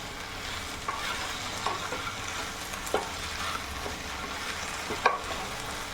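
Potato mezhukkupuratti with curry leaves frying in a pan, a soft steady sizzle with occasional spatula scrapes as the pieces are mixed, close and moderate in level.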